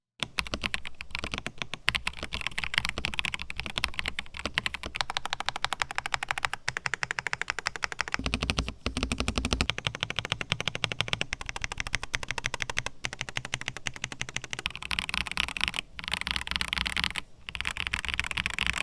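Steady, fast typing on a mechanical keyboard, close up, with dense clacky keystrokes running continuously and no talking.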